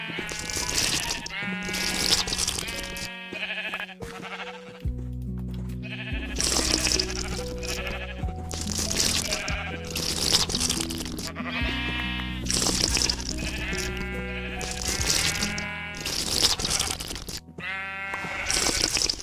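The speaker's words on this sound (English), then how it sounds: "I think I might keep 2 sheep in here just in case." Blocky Minecraft sheep bleat over and over in loud, overlapping calls, with steady sustained tones running underneath throughout.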